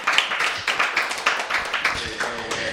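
The crowd at a comedy roast claps for Noel, a short run of fairly even, loud handclaps, with voices talking over them.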